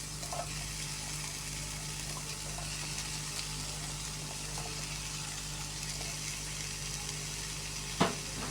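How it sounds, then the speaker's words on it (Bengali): Pumpkin pieces fry in a frying pan with a steady, soft sizzling hiss and bubbling, close by, and one sharp clink of a utensil near the end. "মিষ্টি কুমড়ার টুকরোগুলো এখন ফ্রাই প্যানে দিয়ে দিলাম"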